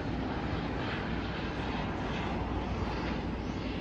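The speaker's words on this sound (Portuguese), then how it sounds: "E quando eu tava filmando, tava passando helicóptero." A helicopter passes overhead at Haitang Bay, a broad, steady roar filling the clip, a continuous rushing drone with no voices.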